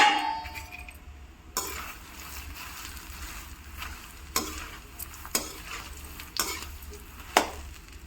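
Makhana (fox nuts) being roasted in ghee in a kadhai, giving a steady soft sizzle with several sharp stirring scrapes and clicks scattered throughout, close and fairly quiet with no talking.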